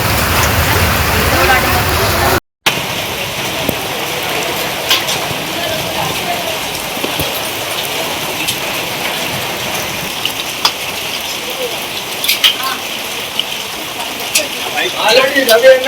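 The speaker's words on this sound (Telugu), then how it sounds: "తెలంగాణ రాష్ట్రంలో పలు చోట్ల వడగళ్ల వాన బీభత్సం సృష్టించింది." Heavy rain with hail hits the ground in Telangana, a constant patter and hiss broken by sharp pellet impacts, heard under a news presenter's voice after a brief dropout near the start.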